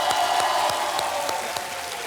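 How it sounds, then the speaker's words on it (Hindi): Studio audience applauding on a television quiz show set, steady continuous clapping at full volume throughout the short stretch. "जोरदार तालियां बज जाएं सोनिया जी के लिए"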